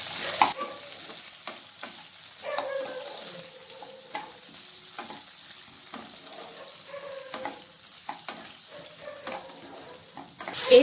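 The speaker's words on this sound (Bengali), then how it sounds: "এরপর এগুলোকে হালকা ভেজে নেব।" Green chillies, ginger, garlic cloves and chopped tomatoes fry lightly in a pan with a soft steady sizzle, stirred now and then with scraping clicks, close by and with no talking.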